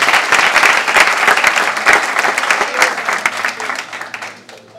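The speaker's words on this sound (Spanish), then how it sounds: "Vamos a aplaudir al Señor." A church congregation applauds together: loud, dense, continuous clapping filling the room for several seconds before beginning to taper off at the end.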